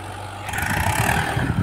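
A 50 hp four-wheel-drive tractor engine rumbles steadily nearby, rising into a louder, rougher roar about halfway through as the load or throttle increases.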